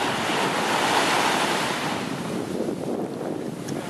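Ocean surf rolls onto the sand at Henderson Beach, a steady wash of breaking waves with wind buffeting the microphone, no voices.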